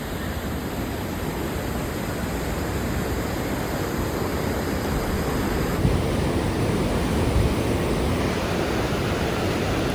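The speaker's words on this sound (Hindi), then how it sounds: "तो ये आ रहा है देखो सैलाब, और लोग आ रहे हैं इसे देखने।" The flooding Ganges rushes through Haridwar after cloudburst rains, a dense, unbroken roar of churning water filling the whole span, loud and steady with no pauses.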